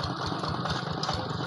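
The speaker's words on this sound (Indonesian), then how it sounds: "seperti ini mesin traktor Quick Impala" A Quick Impala tractor engine idles nearby with a steady, rapid low chugging pulse and a constant mechanical drone.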